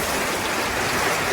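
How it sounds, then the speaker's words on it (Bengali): Steady heavy rain pours down on a dark afternoon after a hot spell, a dense continuous hiss that fills the whole moment evenly with no voices. "তো বৃষ্টিটা উপভোগ করেন"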